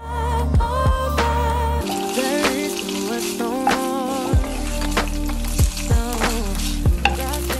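Tofu frying in a pan for tofu tacos, a steady close sizzle with repeated scraping and stirring clicks from a utensil throughout, no voices.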